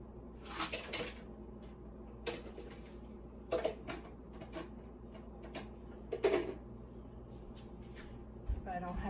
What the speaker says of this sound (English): I'm gonna use the chopstick to stir it